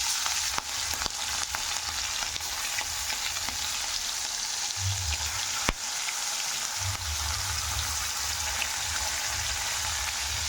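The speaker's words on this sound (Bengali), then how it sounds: "কড়াইয়ের মধ্যে কিন্তু তেল গরম হয়ে গেছে আর আমি চিংড়ি মাছগুলো" Prawns fry in hot oil in a wok with a steady, loud, dense sizzle that fills the whole clip, broken only by a few faint clinks and no talk.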